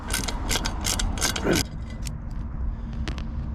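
Screws are removed from a cold air intake on a 2019 Chevy Silverado, with a series of quick ratcheting clicks and mechanical rattles close by, followed by quieter scattered taps.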